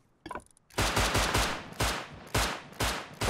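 Gunshots in the game Rust: a faint clatter, then a loud burst of rapid automatic fire followed by several separate loud volleys with short pauses between them, close and alone.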